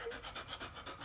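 A dog pants rapidly and steadily at close range in a short burst of quick, rhythmic breaths.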